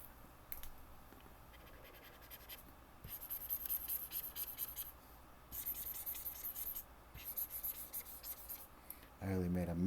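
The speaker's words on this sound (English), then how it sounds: "Go in with your eraser and erase out all the stuff that you don't need." An eraser rubs pencil marks off paper in quick scratchy bursts. The strokes come in several separate runs with short pauses between them, close and fairly faint.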